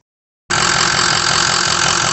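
A 6.0 engine running after a battery fix, starting abruptly and then idling loud and steady close up with a rough, knocking clatter.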